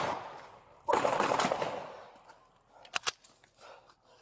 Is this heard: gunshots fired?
yes